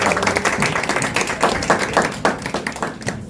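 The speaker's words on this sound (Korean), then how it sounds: "박수를 한번 모셔볼까요?" A church youth group claps to welcome their senior pastor, a lively spread of hand claps with sharp taps standing out, steady and fairly loud across the room.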